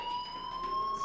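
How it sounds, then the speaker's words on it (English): Fire alarm ringing in the video game Life is Strange, a steady electronic tone held continuously and fairly loud, with no talk over it. "do you hear that fire alarm?"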